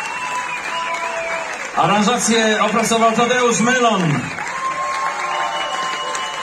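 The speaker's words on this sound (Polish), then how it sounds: "Brawo dla nich." A concert audience at a sea-shanty performance by violinists applauds, with steady clapping running under a voice announcing over it.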